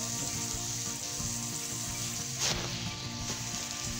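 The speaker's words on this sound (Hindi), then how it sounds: "इस वक्त हम हरी मिर्च डालेंगे ताकि थोड़ी सी ये भी फ्राई हो जाए।" Green chilies frying in a karahi with fish masala, a steady close sizzle with a brief stir in the middle, no voices.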